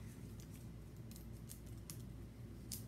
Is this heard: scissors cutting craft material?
yes